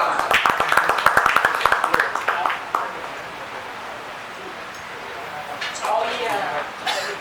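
A reunion crowd gives a short round of clapping for Mas Rama, several seconds of close, sharp claps that taper off, followed by quiet room tone and a few voices.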